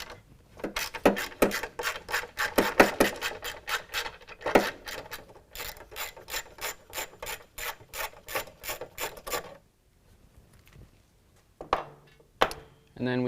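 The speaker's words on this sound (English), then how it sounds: "Now we'll move to the other side and remove our last 2 bolts." Ratchet loosening the last bolts on a 2015-2019 Chevy Silverado while fitting running boards, a quick rhythmic clicking in repeated close bursts with short pauses, then a few scattered clicks near the end.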